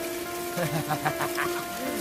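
Heavy rain falls in a storm as a steady, dense patter that runs throughout, partly under a voice and tonal background sounds.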